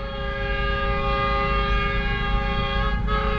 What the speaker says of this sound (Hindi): अभी नेक्स्ट ट्रेन शालीमार एक्सप्रेस